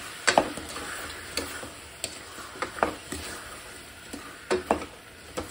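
Apple chutney with caramelising sugar is stirred in a pan over a slow flame, with irregular scraping clicks of the spoon over a soft, steady sizzle.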